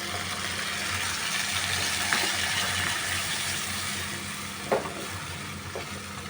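Ginger, garlic and onion paste frying in a pan with onions for mutton keema ghugni, a steady soft sizzle with a couple of brief clinks of stirring.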